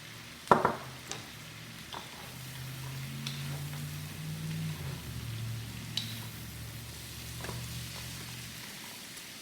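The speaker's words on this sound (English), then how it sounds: "Toss those around a little bit." Sautéed vegetables tossed in a pan, a sharp clatter of the pan near the start followed by a steady, moderate sizzle with faint scraping and stirring, alone without voices.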